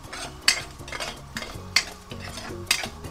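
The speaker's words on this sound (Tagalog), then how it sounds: "Ang tawag niya siyang stir fry." Utensil scraping and tossing carrots in a pan with a little oil while stir-frying, with sharp metallic clinks recurring about every second over a soft sizzle, close and moderately loud.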